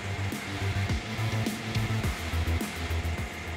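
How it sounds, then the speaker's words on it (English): A Tigercat LX870D wheel loader with a tree cutting system works in a Washington forest, its engine droning steadily with a pulsing, throbbing hum and intermittent higher whines and clunks. "the Tigercat LX870D wheel loader is equipped with a tree cutting system"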